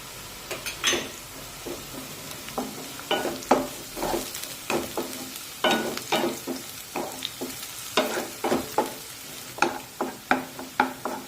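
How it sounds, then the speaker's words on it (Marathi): Chopped onion and green chilies sauté in a pan for a jowar-flour ukadpendi, with quick scraping stirs repeating every half second or so over a soft, steady sizzle, close up and with no talking. "आता कांदा परतत असताना यामध्ये दोन मिरच्या बारीक कट करून घेतलेल्या आहेत त्या सुद्धा कांद्यासोबत परतून घेऊया"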